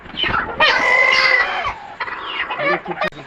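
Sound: chickens clucking

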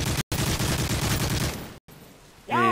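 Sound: gunfire in a video game

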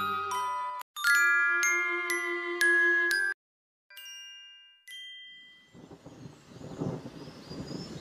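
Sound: thunderstorm

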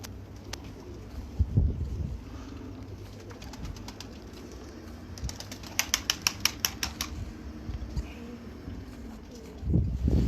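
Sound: pigeons cooing

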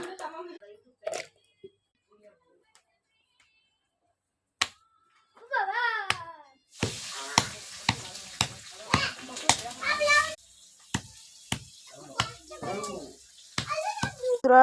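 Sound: crushing jujubes (boroi) for a spiced snack

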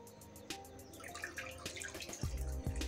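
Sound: water being poured into donut dough mixture

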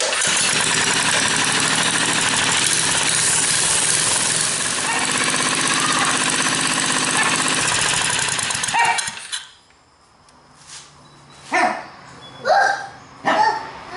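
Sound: engine running after mounting throttle and kill switch

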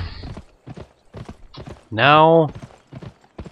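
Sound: horse hooves in a video game

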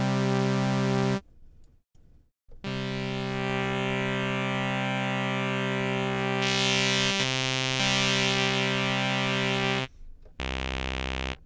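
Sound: synth through Audiothing Valves tube valve overdrive plugin

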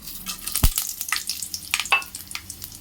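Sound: mustard oil heating and sizzling in pan for tempering rice

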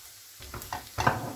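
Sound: onions frying in pan

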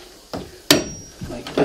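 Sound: chisel being tapped to loosen a seam in a boat bilge

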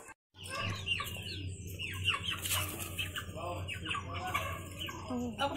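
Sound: chickens clucking while eating scraps

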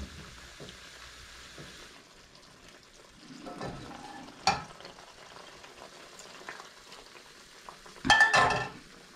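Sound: mushroom risotto simmering while being stirred

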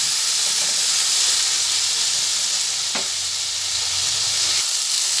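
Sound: grapes frying and being stirred in a pan

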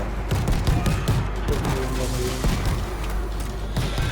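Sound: gunfire in the video game World War Z

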